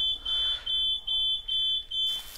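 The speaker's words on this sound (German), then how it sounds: "Ich möchte den Alarm auslösen und ein Feuer wäre dazu ideal." Repeated electronic alarm beeps from a smoke detector in the hidden-object game Mystery Trackers: Silent Hollow, five sharp high pulses in a steady rhythm, loud and alone.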